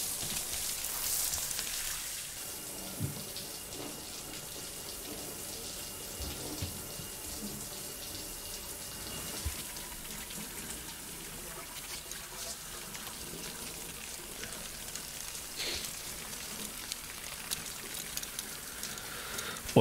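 A shower runs in the video game Death Stranding, giving a steady, close hiss of falling water that lasts the whole time, with a few soft knocks and splashes and no voices.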